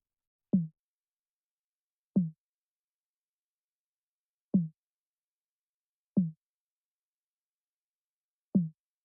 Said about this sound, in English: high tom